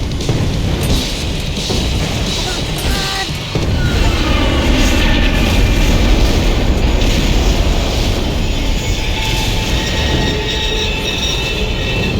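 A plane comes down in the Max Payne 3 video game with a loud, continuous roaring rumble and grinding, wind-like noise that stays dense and steady throughout, with no talk.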